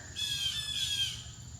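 Loud, harsh birds squawk continuously at close range, a steady shrill chatter running through the whole moment over low outdoor rumble.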